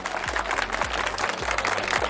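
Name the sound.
audience applause for the police department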